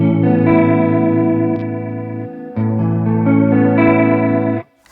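An electric guitar runs through a Fender Hammertone Chorus pedal with the tone switch up, giving a bright, shimmering chorus; sustained chords ring out loud and alone, changing twice before fading at the end.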